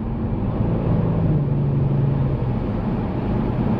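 A Kia Stinger GTS accelerates, its engine a steady loud drone heard from inside the cabin with a tone that rises slightly partway through, with no talking.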